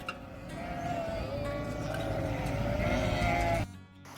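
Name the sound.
sheep bleating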